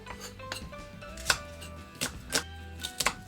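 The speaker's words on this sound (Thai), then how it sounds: "หั่นกระเทียมสไลด์แบบนี้นะคะ" Knife slicing garlic on a cutting board in a home kitchen, a handful of sharp, distinct chops spaced irregularly over a low background hum, close and moderately loud.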